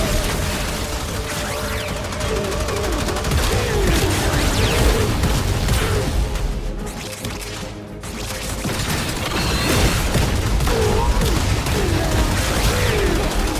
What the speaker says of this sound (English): how come only one is shooting us?